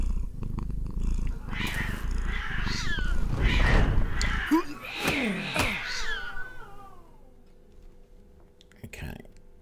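A cat in the video game Battle Brothers Legends lets out a series of loud, drawn-out meows and yowls over a low purr, then fades, with one faint cry near the end.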